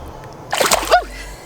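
Splash of a released fish going back into the water, one brief close splash and slosh with no talk.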